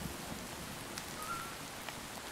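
Rain in the video game Minecraft patters as a soft, even hiss with scattered drops, steady and fairly quiet throughout, with no talking.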